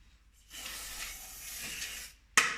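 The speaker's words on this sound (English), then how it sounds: "We just spray this." Cooking spray hisses onto baking pans in one steady burst of about a second and a half, close and fairly quiet, followed by a short sharp click or tap.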